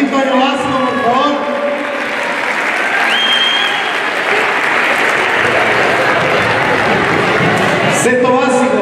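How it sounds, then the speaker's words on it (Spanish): Loud, sustained applause rises for the fifth grade class at an end-of-semester school ceremony in Chile, a dense crowd clapping continuously while music and voices carry on underneath, briefly over the opening and closing seconds. "Fuerte el aplauso para el quinto año básico, por favor"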